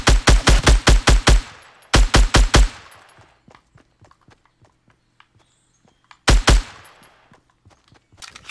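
Gunfire in a battle royale video game: three loud, close bursts of rapid automatic shots, separated by quieter stretches of faint clicks and distant movement.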